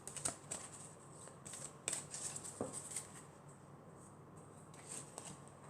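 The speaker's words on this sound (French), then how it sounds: "Et ensuite, on va prendre une autre carte." Tarot cards are shuffled and drawn by hand close up, soft papery riffles and flicks in short bursts separated by quiet gaps.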